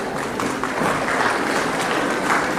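A crowd at a cultural programme prize-giving in Gaborone, Botswana applauds in a dense, steady wash of clapping for the full short stretch, with no talk over it.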